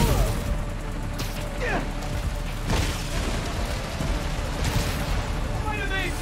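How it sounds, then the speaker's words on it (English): Bursts of gunfire crackle in a blizzard in Marvel's Spider-Man: Miles Morales, amid constant mechanical and ambient game noise, with scattered sharp reports and metallic clatter. "I need to head towards the gunfire."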